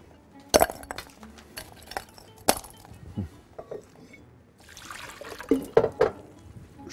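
Ice cubes clinking and knocking against a glass, several sharp clinks separated by quieter tumbling and a brief trickle of liquid, heard close with no talk.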